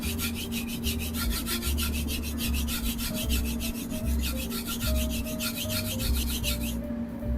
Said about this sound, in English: I'm just gonna sharpen mainly this front area